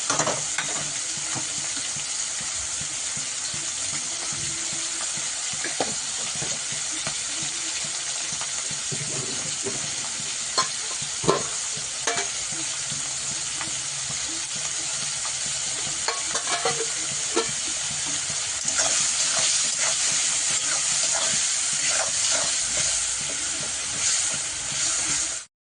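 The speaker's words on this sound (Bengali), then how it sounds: "চিংড়ি মাছটা তেলে ছেড়ে দিলাম ভেজে নেবো" Prawns sizzle and spit steadily in hot oil with salt and turmeric, with occasional stirring clatters and a brief surge of hissing toward the end.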